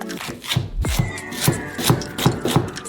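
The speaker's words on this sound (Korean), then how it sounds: "반으로 자르고 줄기를 따라 잘라주고" A knife chops chives (buchu) on a cutting board in rhythmic, crisp strikes, about six or seven close, distinct taps with soft scraping between them.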